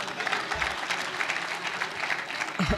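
A live audience at a comedy show claps steadily in a dense, continuous round of applause that holds at an even level throughout.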